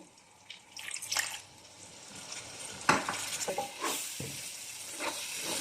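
Spices with black pepper, red chili and a little water sizzle and crackle in a hot pan for aloo baingan, with scraping stirs and a few sharp clinks of a utensil against the metal.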